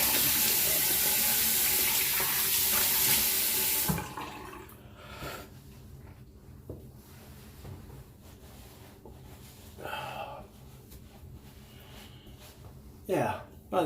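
Tap water running while rinsing off after a shave, a loud steady gush for about four seconds that then stops, followed by quieter splashing and dripping.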